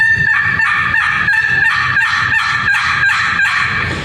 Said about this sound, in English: So here's the box call, great box call.